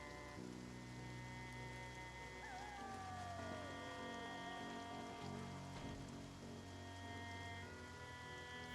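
Steady rain hisses in the survival video game Project Zomboid, set in Rosewood, Kentucky, a soft, even wash of patter beneath sustained tonal background sounds, with no talking.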